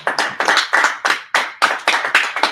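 A small group claps at a city council meeting, about a dozen sharp, uneven claps in quick succession, loud and close, with no talk.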